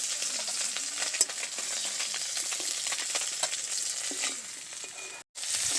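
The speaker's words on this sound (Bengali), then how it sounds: "এবারে বেশ ভালো করে মাছগুলো ভেজে নেব।" English khoira river fish frying in oil in a pan, a steady dense crackling sizzle with light pops throughout, briefly cut near the end.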